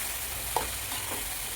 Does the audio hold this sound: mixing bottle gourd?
yes